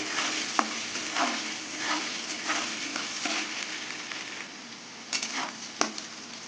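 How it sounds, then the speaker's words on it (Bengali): Salted potatoes frying in a pan, a continuous hot sizzle with a few sharp scraping stirs of a utensil against the pan. "পরিমাণ মতন একবারে নুন দিয়ে দিলাম আর আলুগুলো একটু ভেজে নেব"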